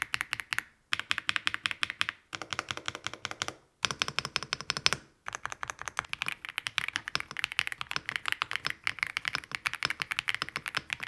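Typing on a hot-swappable mechanical keyboard that takes 3- and 5-pin switches, with fast, crisp key clacks in bursts separated by brief pauses.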